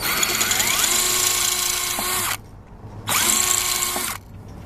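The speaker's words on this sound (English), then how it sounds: "I guess I gotta ream it a little." A power drill reams out a hole during a snorkel build on a 2001 Subaru Outback, whining loudly and close in two sustained bursts with a short pause between, the motor pitch shifting under load.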